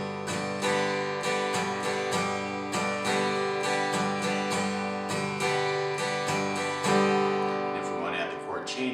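Acoustic guitar strummed in a steady eighth-note rhythm, with short rests breaking up the pattern; bright, close chords sounding alone for the whole stretch.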